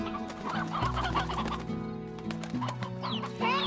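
A rooster in the video game Slime Rancher clucks repeatedly over soft in-game music, producing short, close, choppy bursts of fowl calls.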